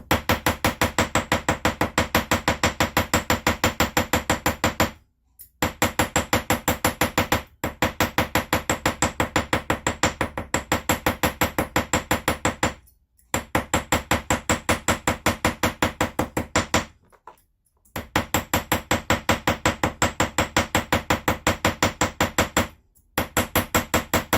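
Rapid, steady hammer blows ring on a metal earring in long fast runs, broken by a few brief pauses, loud and close.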